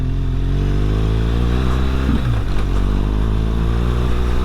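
A BMW R1200 GS Rallye motorcycle on the move, a loud, steady engine drone close to the rider with rushing wind, holding a constant pitch with a slight shift partway through.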